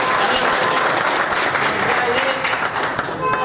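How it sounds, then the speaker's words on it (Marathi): An audience at a temple-related public gathering breaks into loud, sustained applause, dense clapping that fills the whole stretch at close range. "त्यांच्यासाठी जोरदार टाळ्या वाजवल्या पाहिजे"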